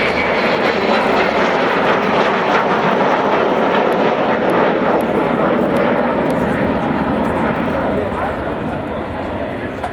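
An Avro Vulcan bomber at RAF Waddington produces a loud, continuous engine roar that fills the full ten seconds and eases off slightly near the end.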